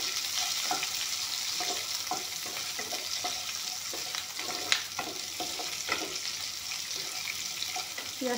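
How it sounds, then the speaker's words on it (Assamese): Chopped onions fry in oil with panch phoron and bay leaves for a paneer cashew tomato curry. A steady close sizzle runs throughout, broken by soft scraping stirs. "এইখিনি অলপমান ভাজি ল'ম।"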